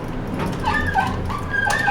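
Schindler MT traction elevator in a 12th Street parking garage in Center City, Philadelphia, squeaking as it moves, a few thin, whining squeals rising and falling over a low mechanical rumble, close and moderately loud.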